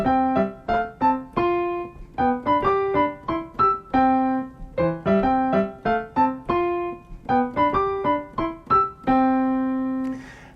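A calypso jazz piano is played slowly with both hands, detached chords and single notes in a lilting, syncopated pattern. Playing is moderately soft and close, ending on a sustained final chord, with no voices.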